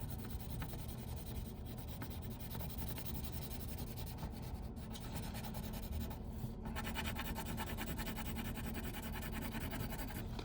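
Graphite pencil shading across paper while darkening one side of a two-point perspective box drawing, a steady soft rubbing scratch that continues evenly and close throughout.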